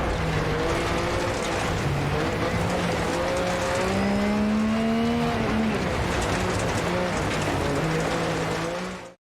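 Race car engine in a sim racing game revs hard at high RPM, a loud, continuous whine that climbs and drops through gear changes, with a tire squeal and no talk over it.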